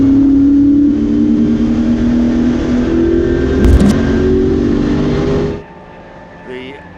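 A Ford Mustang race car engine roars loud and close at Silverstone Classic, a sustained rasping drone with shifting pitch before cutting abruptly to quieter background, with a commentator's voice present.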